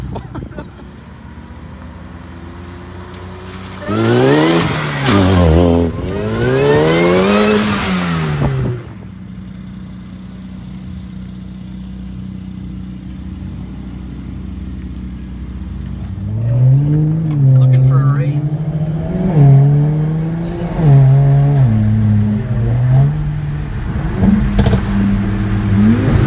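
Cars, a C43 AMG, a BMW E30 and a Cobalt SS, drifting and revving nearby: two bursts of rising and falling engine revs with clatter, separated by a steady idle, and people talking in between.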